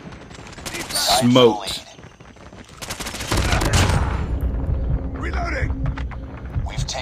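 An AS VAL suppressed rifle fires in a video game in quick bursts, rattling shots close by, mixed with a player's voice talking over the action.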